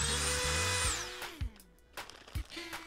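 A Dremel rotary tool fitted with a round sanding attachment whines at high speed, then spins down in a falling pitch, followed by a few light knocks and a short restart.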